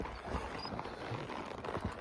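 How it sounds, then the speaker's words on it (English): A horse's hooves clip-clop in an irregular, restless rhythm, fairly close over steady background noise, with no talk. "The horse is losing her mind."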